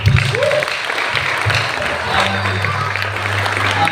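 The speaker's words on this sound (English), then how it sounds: "Can we give a clap of praise?" Church congregation clapping in praise during a worship service, a moderate wash of applause mixed with voices and a low sustained tone.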